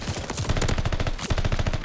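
Rapid automatic gunfire in a ranked hardpoint match of an online shooter video game, dense loud bursts of shots filling the whole stretch with no talk.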